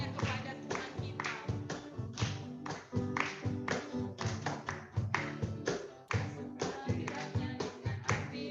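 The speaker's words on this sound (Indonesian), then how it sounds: "Mari kita tepuk tangan Bapak Ibu." A church congregation at an online worship service claps hands in a steady, even rhythm along with music and singing, each clap sharp and evenly spaced over a full musical backing.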